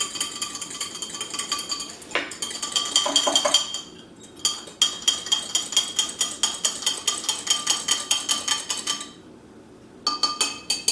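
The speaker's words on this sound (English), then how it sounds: "Now, I'm that person that stirs things like this with a fork" A metal fork clinks rapidly and rhythmically against the side of a glass while stirring an electrolyte drink, bursts of bright ringing taps with brief pauses, close and with no voices.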